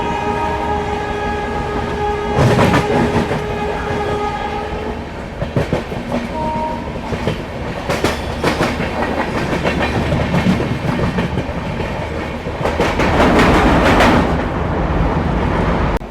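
The Bhopal Shatabdi Express rolls along the tracks with a loud, continuous rumble and rhythmic clickety-clack of wheels over rail joints, with a sustained horn blast at the start.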